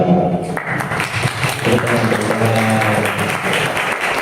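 Audience applause at a game music workshop event, a steady wash of clapping sustained through the whole stretch, with tonal music and murmuring voices underneath.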